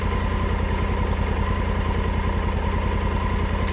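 A motorcycle engine idles with a loud, steady, even rumble and throb, close by and unbroken, before riding off on a gravel route in Saaremaa, Estonia.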